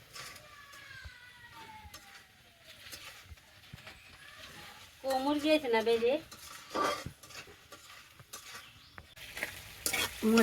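Spice masala for a rohu fish curry with coconut paste is stirred and fried in a pan, a soft sizzle under repeated metal scraping and clinks, with voices heard in the background.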